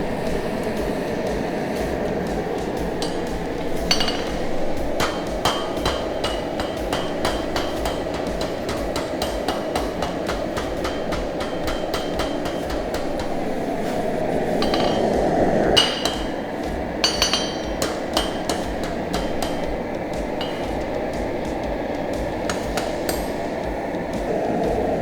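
Hammer forging the taper of a metal bottle opener, a long run of rapid, sharp metallic strikes on an anvil in a quick steady rhythm, close and loud, with a brief louder rumbling swell midway.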